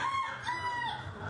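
A Wyandotte rooster crows in one drawn-out, wavering call, fairly faint and alone, with no voices over it.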